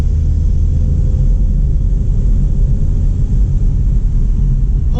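A 73-year-old Plymouth car drives down a road, its engine a steady low rumble with continuous road noise, heard from inside and holding constant without speech.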